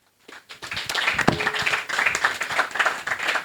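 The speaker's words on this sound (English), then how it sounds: "We can have a round of applause to everyone." An audience at the Gusii Innovation Week summit breaks into a round of applause, with a burst of scattered, close hand claps that quickly builds into a steady patter and continues to the end.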